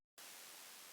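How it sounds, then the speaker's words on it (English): Broadband noise with reverb from a drum and bass track starts abruptly after a short silence and holds as a steady, loud hiss filling the high end for the rest of the moment. "It's just noise with a bit of post-processing going towards reverb"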